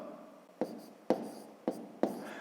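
Pen writing a column subtraction on paper for a fifth-grade maths exercise, heard as four sharp strokes and taps at a steady rhythm, close and fairly loud, with a faint scratch between them and no talk.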